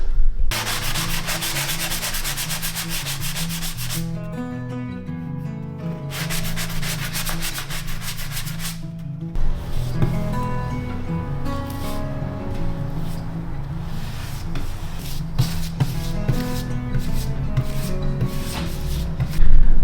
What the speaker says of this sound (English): there's still some here that needs to be sanded away